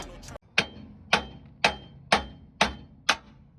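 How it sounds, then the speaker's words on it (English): A 5-pound hammer strikes a wheel stud on a car hub in six sharp, evenly spaced metallic blows, close and loud, each ringing briefly. "What we're gonna do is take our trusty 5-pound hammer that we always love"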